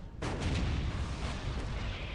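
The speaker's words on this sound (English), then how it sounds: "So boom, that's the Demolish super battle cannon." Demolisher battle cannon firing in the Dawn of War: Definitive Edition strategy game, one sudden loud boom followed by a long rolling, rumbling decay with no speech.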